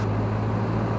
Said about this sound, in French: je vais faire les essais moteurs